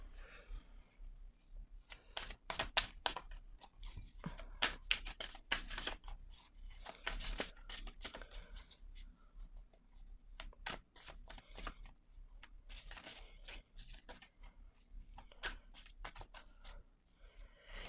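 Oracle cards are shuffled by hand close up, giving quiet irregular flurries of riffling and snapping card edges with short pauses between them.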